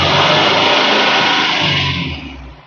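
Fully restored engine of a load vehicle at Mahathi Cars revved hard, a loud dense roar held steady before easing off at the end, with no talking.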